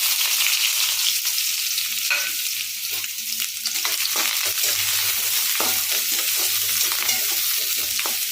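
Onions added to hot oil after mustard seeds pop, frying for a spinach and egg scramble in a pan, with a loud continuous sizzle and intermittent scraping of a stirring spoon, no talk.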